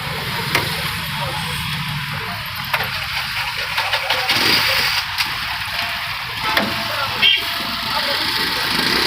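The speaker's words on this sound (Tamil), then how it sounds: "வண்டி ஆன் பண்ணி பார்த்தாலும் நல்ல கண்டிஷனில் தான் இருக்குது." A TVS auto rickshaw engine runs steadily after its self-starter motor repair, a close continuous rattling hum with occasional knocks and clicks, with faint voices in the background.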